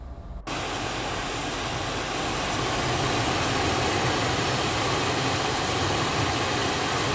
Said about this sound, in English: And we have N2 rotation.